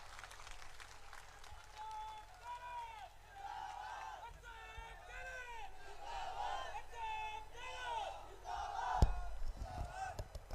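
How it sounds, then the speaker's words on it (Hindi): Crowd at a Congress election rally in Gangapur City cheers and chants in rhythmic bursts with scattered clapping, a steady roar from many voices, ending with a sharp thump. "नायक पूर्व मुख्यमंत्री अशोक जी गहलोत साहब को तालियां बजाकर स्वागत होना चाहिए"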